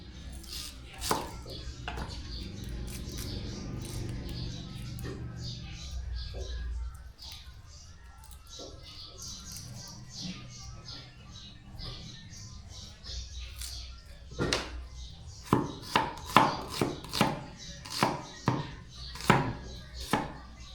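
Two onions are chopped on a cutting board for pinakbet in a home kitchen, first faint scattered knife taps under talking, then a clear run of sharp, evenly spaced chops near the end.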